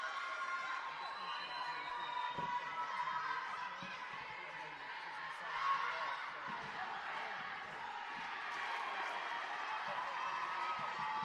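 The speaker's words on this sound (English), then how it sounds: "Sussex Till I Die ringing around from the crowd here." A crowd of spectators at a Varsity netball match keeps up a sustained chant of "Sussex Till I Die", its broad, steady roar filling the hall with rising and falling swells and occasional shouts.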